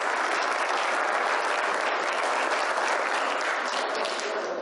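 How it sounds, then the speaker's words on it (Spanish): Steady, dense applause from a large conference audience, loud and continuous throughout with no talking. "Un fuerte aplauso, por favor"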